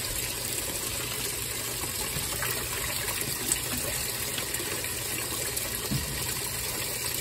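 Hot water running steadily from a tap while grow bags are washed, a continuous gushing stream at even loudness with no talk.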